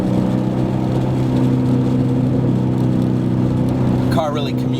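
A 2011-2014 Mustang GT with a BORLA exhaust rumbles in a steady, deep, loud drone with strong low tones, and a voice briefly talks near the end.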